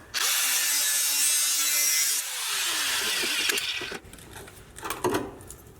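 A power tool cuts through spot welds on a rusted Jeep Wrangler YJ floor, a loud steady high-pitched grind that drops in tone and then gives way to scraping and rattling bursts.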